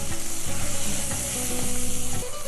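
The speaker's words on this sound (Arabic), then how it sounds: "هنزل بقى بحبه الكبده الصغيرين خالص اللي احنا شايفينهم دول، تشويحه مع لسان العصفور والبصل والثوم" Small pieces of chicken liver sautéing with orzo, onion and garlic in a hot pan, producing a loud continuous sizzle with a rapid, pulsing stir rhythm and no voices.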